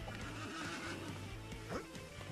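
A horse in the Disney Infinity video game, Lone Ranger level, neighs and whinnies in a loud, close, wavering call over steady game background sound.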